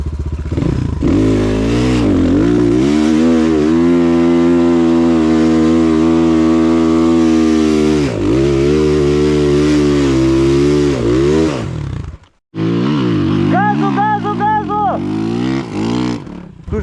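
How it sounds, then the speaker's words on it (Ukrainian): A Rottor Bronx 300 Chinese enduro motorcycle being ridden off-road, with its engine droning loud and close, holding steady revs, then dipping and revving again after a brief break, with a rider talking at times. "Типу мотик взагалі затягує без питань."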